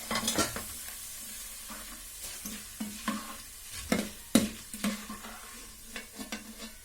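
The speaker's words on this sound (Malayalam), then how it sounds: "നമുക്ക് 3ഉം ഈ എണ്ണയിലിട്ട് നമുക്ക് വറുത്ത് കോരണം കേട്ടോ" Beaten rice, roasted gram and peanuts fry in hot oil for a Kerala-style dried jackfruit mixture, a low steady sizzle broken by repeated scraping and clinks of a ladle stirring against the pan.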